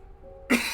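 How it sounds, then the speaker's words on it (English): A single sharp cough bursts out close to the microphone after a brief quiet moment. "I felt like a cough was coming up and it was like bugging my throat"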